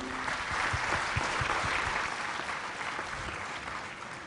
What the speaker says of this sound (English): Give a thundering applause once again for the Guru.